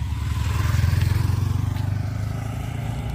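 A small motorcycle ridden by a child practicing gear shifting idles and chugs with a steady low engine rhythm, close by and moderately loud, rising slightly then settling.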